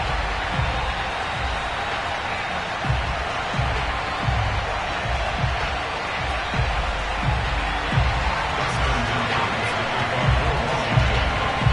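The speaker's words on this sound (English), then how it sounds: "this crowd is ready to go" A packed NFL stadium crowd at FedEx Field in Landover, Maryland, waiting for kickoff against the Buffalo Bills, a dense roar of chatter and cheering with scattered thumps, steady and loud throughout.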